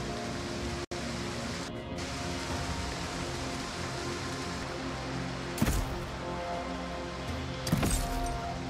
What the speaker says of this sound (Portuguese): Essa chuvarada tá foda.